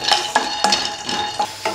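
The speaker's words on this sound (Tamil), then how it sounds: "ஸோ முதல்ல இது வந்து நல்லா கோல்டன் ப்ரௌன் ஆகிற வரைக்கும் இதை வறுத்துக்கலாம்." Raw peanuts dry-roasting in a pan, heard as a quick run of rattling scrapes and soft clatters as the nuts are stirred, loud and close, about five strokes in under two seconds.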